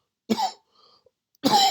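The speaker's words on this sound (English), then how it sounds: "I just have a bad cough today." Two harsh bursts of coughing from one person indoors, separated by a short quiet pause, close and fairly loud.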